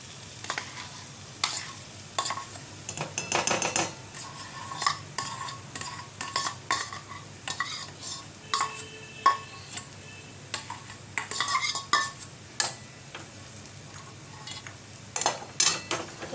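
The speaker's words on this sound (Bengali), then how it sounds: "আলুটা মশলার সাথে ভালো করে মিশিয়ে নেবো একটু, আদা রসুন নুন হলুদের সাথে ভালো করে মিশিয়ে নেবো আলুটাকে" Mashed potato mixed with ginger, garlic, salt and turmeric in a hot pan, with constant stirring, scraping and spoon clinks against metal over a low sizzle, close and busy, with no talk.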